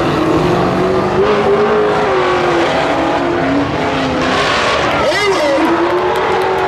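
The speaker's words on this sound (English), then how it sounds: "Hayward going after Palmisano again" Late model race cars roar around a speedway oval with a loud, continuous engine drone. Pitch shifts and a sweeping pass-by are audible, and a commentator talks over the racing.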